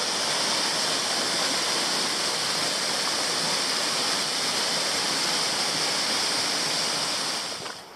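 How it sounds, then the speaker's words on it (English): Shower Falls, near Waterfall Bay in Tasmania, pours with a steady, dense rushing roar that holds even for several seconds before fading at the end, with no voices. "So this is Shower Falls."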